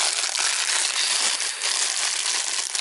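Individual plastic toy packets crinkling and rustling continuously up close, a dense crackly texture with no voices.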